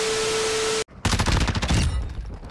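A Tempus Razorback rifle firing a rapid burst in Call of Duty: Modern Warfare 2, loud and close, after a steady tone cuts out for a moment; the shots roll out in quick succession and then trail off into a fading echo.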